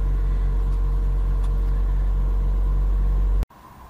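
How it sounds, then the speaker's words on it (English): Engine of a car with a failing starter motor and the distributor disconnected, cranking steadily with a loud, even low rumble and faint periodic pulsing for about three and a half seconds before cutting off abruptly. "I've disconnected the distributor so you can hear what the starter motor actually sounds like."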